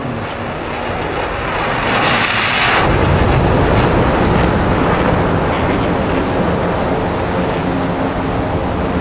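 An F-16 Viper jet engine at takeoff in the DCS combat flight simulator, a loud steady roar that swells sharply after about three seconds into a dense, broadband thunder sustained to the end.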